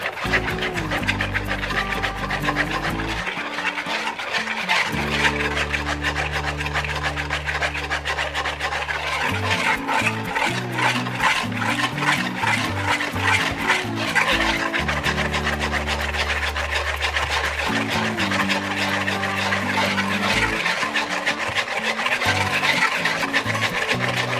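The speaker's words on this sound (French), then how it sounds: "Et on va continuer à mélanger." Batter for a Moroccan coconut cake, with oil just added, is mixed in a bowl. It makes continuous rhythmic rasping and scraping strokes, close and steady, over background music.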